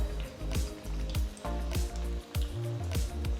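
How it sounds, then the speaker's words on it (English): Rice pakoras deep frying in hot oil in a kadai give a soft, quiet sizzle, with bubbling bursts each time a piece drops in. "Once the oil is hot, gently drop in the prepared fingers."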